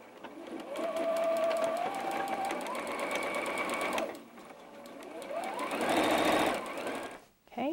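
A sewing machine stitches quilt pieces for a diamond point pattern, running in a loud, steady mechanical whir close by. It slows and dips briefly midway, picks up again, then stops near the end.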